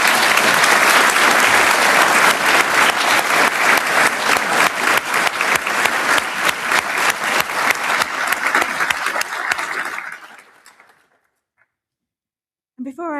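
An audience at a graduation ceremony gives loud, sustained applause to the student musicians, dense clapping that slowly thins and fades out to silence, with a voice briefly resuming at the end.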